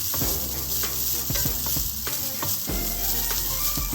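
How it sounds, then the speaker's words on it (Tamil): Coconut filling for kozhukattai sautéing in a pan, a steady close sizzle with repeated scraping strokes of a spatula throughout, no voices. "அந்த ஈரப்பதம் போகிறதுக்காக சும்மா ஒரு ஒரு நிமிஷம் வந்து என்னென்னா வதக்கிக்கணும்"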